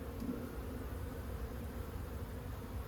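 Bees from an owl house swarm cutout hum in a steady, dense buzz that fills the whole stretch, close and continuous without any talk over it.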